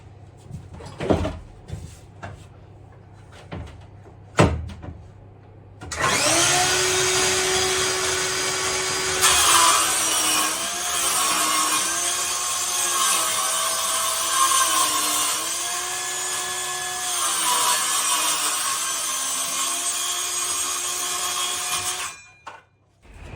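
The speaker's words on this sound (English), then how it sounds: "I'll just cut it out with the jigsaw." A jigsaw saws through wall lining board during a narrowboat fit-out, buzzing loudly and steadily for about seventeen seconds with small shifts in pitch. A few scattered knocks and handling clicks come before it starts.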